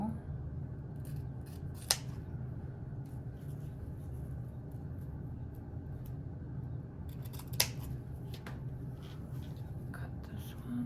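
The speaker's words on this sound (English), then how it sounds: "These 7/8 ribbon, all I do is I cut them on an angle," Scissors cut 7/8-inch ribbon at an angle while a large bow is made, giving two crisp, close snips spaced several seconds apart over a steady low room hum.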